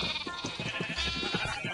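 Sheep bleating in Minecraft: several wavering bleats repeat in quick succession, close and clear, with busy game sounds and no talk.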